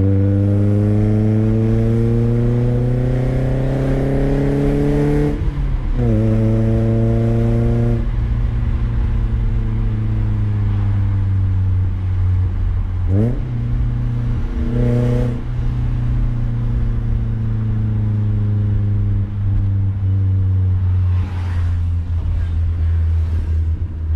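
Exhaust of a BMW Z3 project car with a new exhaust, heard from outside as it pulls away with the windows down: loud engine tones climb through several gear changes, each dropping back before rising again.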